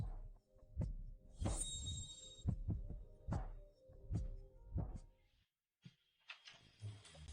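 Rapid thumping heartbeat in a tense drama scene, a series of low, evenly spaced thuds that break off briefly before a few final soft beats.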